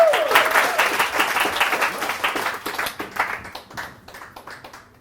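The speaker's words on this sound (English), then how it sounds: "So round of applause for Ash." An audience at a talk on success applauds to welcome the speaker, a lively burst of clapping that gradually thins and fades over a few seconds.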